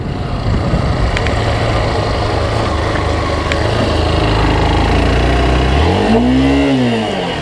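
A training motorcycle's engine drones steadily and loudly during a braking demonstration with the throttle left open, then makes a short rising-and-falling rev near the end, with no speech.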